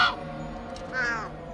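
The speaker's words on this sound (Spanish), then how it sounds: "El cuervo entra en la habitación de Sara parándose sobre una lámpara." A crow caws indoors in a bedroom, two harsh calls, a short one at the start and a longer rasping one about a second later, fairly close with no voices.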